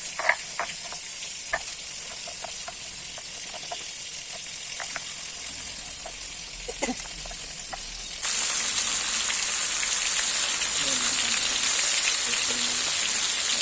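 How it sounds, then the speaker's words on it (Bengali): Fish fries in oil with a steady crackling sizzle and occasional light clicks, the hiss jumping abruptly louder and brighter about halfway through and staying strong after. "মাছটা ভাজা হয়ে গেছে"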